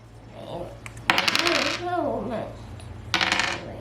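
Dice rolled by a child in a home dice game, two bursts of bright clattering on a hard surface, close and fairly loud, with a voice speaking quietly between them.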